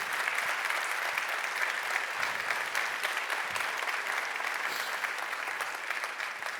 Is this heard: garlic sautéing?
no